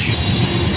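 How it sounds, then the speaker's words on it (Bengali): A Titas passenger train rolls past alongside a roadside in Raipura, its loud, steady rail rumble filling a brief moment with no voices. "দেখতে পাচ্ছেন একটা তিতাস ট্রেন যাচ্ছে এই মুহূর্তে রাস্তার সাইড ধরে"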